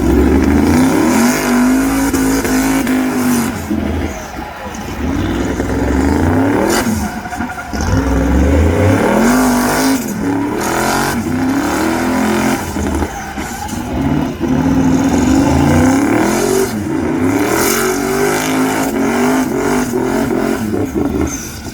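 A 1,000 horsepower car doing a rolling burnout at the Carlisle Import & Performance Nationals, loud sustained engine roar with repeated revving surges and dips over about twenty seconds.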